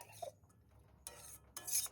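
Yippee noodles and chopped egg are stirred together in a pan, with a few separate bursts of utensil scraping and clinks against the metal separated by quiet pauses, close and sharp.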